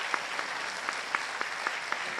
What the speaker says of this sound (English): Let the claps be louder as they graduate